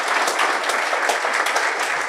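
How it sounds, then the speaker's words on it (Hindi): Steady applause from an audience at a toppers' talk for civil-service exam achievers, a dense even patter of many hands clapping at moderate level throughout, with no voices over it. "केडी सर जोरदार तालियों की प्रस्तुति के साथ"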